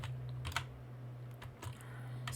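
Keys on a computer keyboard are tapped in a few faint, quick bursts while a command is entered at a terminal, with a low steady hum beneath and no talk.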